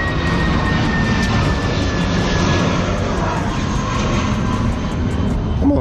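A fixed-wing airplane passes overhead near an airport, its engine drone steady and loud throughout, a broad continuous roar with a faint whining tone, heard beside an auto repair shop.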